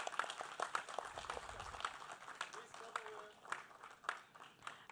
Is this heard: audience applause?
yes